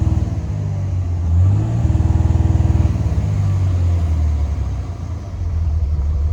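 A worn, abandoned Dodge 2500 pickup with a 5.9L Cummins diesel is revved hard with the pedal floored, a loud close rumbling roar that climbs and drops in pitch with a choppy, pulsing beat, and no talking.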